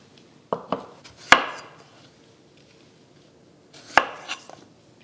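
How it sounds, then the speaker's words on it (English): Baby potatoes cut in half with a knife on a cutting board: a few sharp, close chops, three in quick succession, a pause, then two more with a lighter tap, no speech. "And now we're going to cut them into half."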